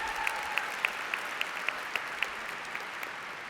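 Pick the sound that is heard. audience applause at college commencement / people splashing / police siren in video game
audience applause at college commencement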